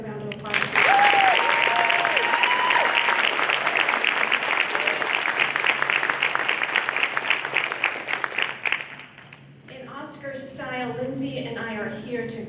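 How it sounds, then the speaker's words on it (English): A graduation reception audience at an honors college bursts into loud, sustained clapping with a few cheers, fading after several seconds as a speaker begins talking. "Can we give them another round of applause?"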